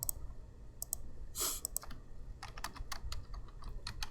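Someone types on a computer keyboard, a quiet, irregular run of light clicks and key taps, some in quick bursts and others spaced apart.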